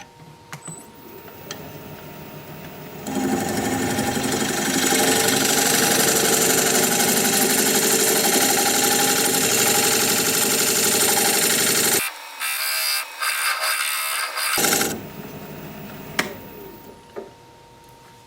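Recess tool cutting into a Russian olive live-edge bowl spinning on a wood lathe: a loud, steady scraping hiss over the motor's hum for about nine seconds, then a brief break and short renewed cuts before the lathe runs quieter.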